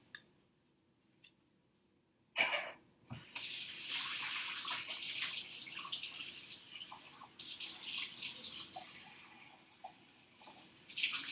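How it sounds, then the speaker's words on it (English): Hot water from a sink tap runs into a cup, starting with a couple of clunks, then a steady close splashing stream that shifts in tone as the cup fills. "So I'm going to go to my sink and fill it up with some hot water."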